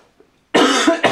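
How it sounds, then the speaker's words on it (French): A single close, loud cough to clear the throat, starting abruptly after near silence and followed by a short second burst. "je vais tousser, voilà, pour m'éclaircir la voix"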